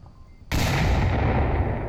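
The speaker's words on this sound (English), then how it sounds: "While launching nades into a courtyard where no one occupies it" Grenade launches and blasts in the VR shooter Onward, sent into an empty courtyard during a competitive match: a sudden loud burst of explosive gunfire that holds as a dense, roaring barrage to the end.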